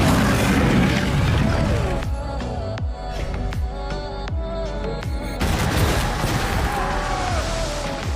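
A grenade blast in a battle scene against a sand dragon: dense, continuous roaring explosion and crashing debris, with repeated sharp cracks punctuating a loud rumbling wash throughout.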